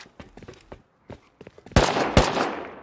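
Gunfire in the survival game Rust during a rooftop fight: a string of light shots early on, then two loud, sharp shots near the end with a ringing tail.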